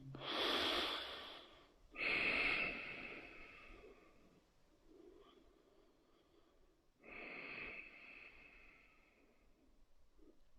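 Deep yoga breathing in a standing-pose class: three long, loud inhalations through the nose with quieter exhalations between, close and unaccompanied by talk.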